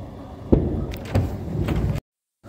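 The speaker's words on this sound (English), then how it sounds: "I'm going to close this door" A heavy, wide lodge-room door in a Masonic hall is pushed shut, giving a solid thump and a second dull knock with rumbling creaks in between, fairly close and loud, then silence.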